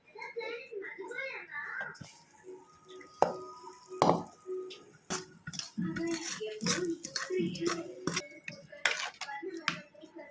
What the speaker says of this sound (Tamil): இப்போ இதில் வந்து நம்ம தாளிப்பு கொட்டிக்கலாம்